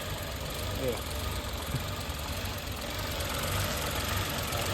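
A car engine runs steadily at a low, even idle, failing to build speed. A continuous mid-pitched drone holds at constant loudness throughout, with no revving swells.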